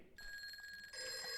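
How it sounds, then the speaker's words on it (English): A telephone rings with a bright electronic trill, a steady tone that cuts in and then grows louder, clear and alone. "That's a phone."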